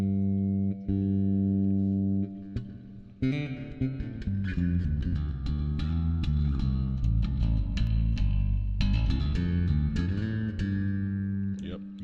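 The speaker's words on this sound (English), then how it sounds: "Oh, there's the old infamous spring reverb." Guitar played through the spring reverb effect of a Zoom B6 processor, sustained chords and picked notes ringing out loud with a splashy, lingering reverb tail, alone without talk.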